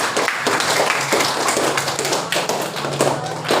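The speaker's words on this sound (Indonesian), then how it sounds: "tepuk tangan dong dari kelompok yang bertanya pertanyaan" Classroom students clapping for a presenting group, a steady patter of many hands slapping together, fairly close and continuous, with little talk over it.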